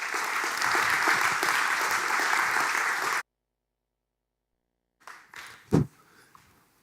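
Dense, steady applause from a seminar audience for a guest speaker at a graphic design and activism talk, filling the first three seconds, then stopping dead; after a pause come a few faint handling sounds and a short thump.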